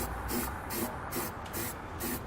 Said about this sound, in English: I'm going to take a little bit of spray paint.